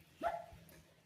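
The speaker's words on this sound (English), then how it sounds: "I'm sorry for my dog." A dog gives one short, faint bark some distance away in a quiet garden during a sweet potato harvest, followed by a softer trailing yip.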